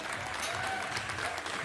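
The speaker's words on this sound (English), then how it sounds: "How about a round of applause for Tristan Nelson?" Brief, fairly faint round of applause from the audience at a regional junior livestock show, steady clapping with no break.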